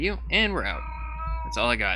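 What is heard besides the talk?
cat yelling in the background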